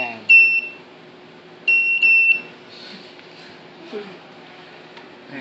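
Two short, high electronic beeps from a device, a clear tonal bleep followed by a second slightly longer one about a second and a half later, with quiet voices talking in the background.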